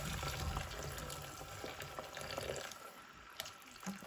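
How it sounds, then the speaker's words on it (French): Already boiled water pours into a cooking pan, a faint, close liquid splashing and trickling with a few small drips and no voices. "Je mets mon eau qui a déjà bouilli."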